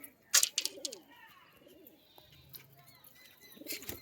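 A pigeon gives a soft, low coo amid faint fluttering and rustling nearby, fairly quiet overall.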